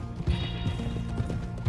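Horse hooves clip-clop steadily at a walking pace as a rider approaches the stables in Red Dead Redemption 2, close and clear over a low background hum.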